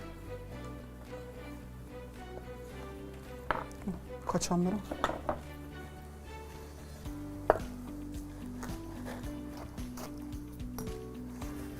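A kitchen knife chops the white parts of green onions on a board, a short flurry of irregular, fairly close cuts with a couple of separate knocks later, under low steady room noise while someone talks.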